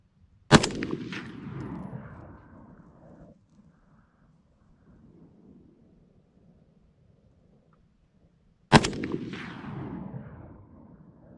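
Two loud AR-308 rifle shots at an outdoor shooting range, each a sharp crack with a long rolling echo, spaced about eight seconds apart with quiet between.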